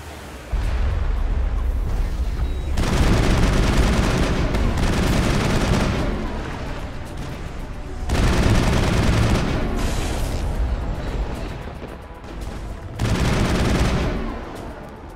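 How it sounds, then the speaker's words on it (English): Heavy artillery gunfire in the video game Mass Effect, with loud sustained bursts of booming fire in several long waves separated by brief quieter gaps. "We must find a way to disable their artillery."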